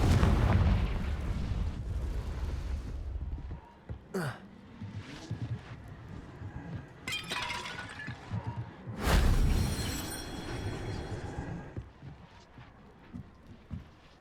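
Bombarda and Confringo spell blasts in Hogwarts Legacy, a heavy booming explosion at the start followed by sharp cracks and a second loud burst, with game effects and rumble between.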